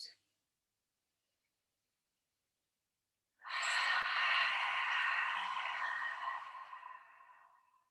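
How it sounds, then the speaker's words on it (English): A single long, breathy ujjayi exhale through the mouth with a hushed throat-constricted rasp from the back of the throat, steady for about four seconds then trailing off, alone and fairly close. "as you exhale out of your mouth, you create a sound, and the breath is coming from the back of the throat"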